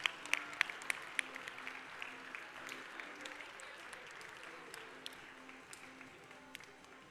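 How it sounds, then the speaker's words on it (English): Audience applause at the close of a robotics competition finals, a steady wash of clapping at moderate distance with a few sharper claps near the start, no one speaking over it. "let's keep the applause going for their partner"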